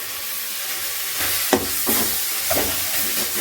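Ginger-garlic-chilli paste sautés in tomato gravy for a baby jackfruit kuruma, giving a steady close hiss and sizzle with a few soft stirring knocks.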